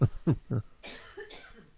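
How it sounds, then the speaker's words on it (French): Three quick, close coughs in a row, followed by a brief throaty murmur and soft breathy sounds. "Je peux tousser avant."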